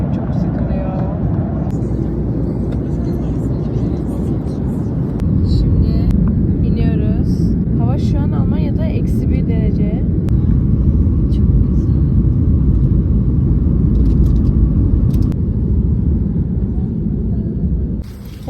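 Loud, steady rumbling roar fills an airplane cabin as the plane lands, a dense low drone that swells slightly midway, with people talking over it.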